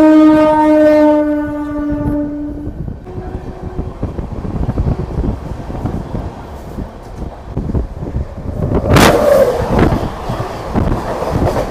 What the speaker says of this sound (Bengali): ততক্ষণ ট্রেনটা পৌঁছে যাক খড়গপুর স্টেশন